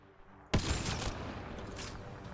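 Gunfire erupts in Mass Effect: Andromeda, a sudden loud volley of rapid shots after a brief quiet lead-in, continuing as a dense rattling barrage.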